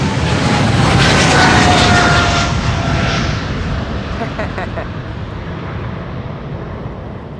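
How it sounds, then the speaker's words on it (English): A Boeing 747 at Amsterdam Schiphol Airport makes a loud, nearby jet roar that swells and then slowly fades as the aircraft passes. "now there is a 747 coming this way"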